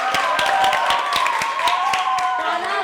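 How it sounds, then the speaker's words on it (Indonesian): A class of school students claps in a steady patter of many hands, with a few voices calling over it, fairly close and continuous throughout. "Tepuk tangan untuk kelas 8A"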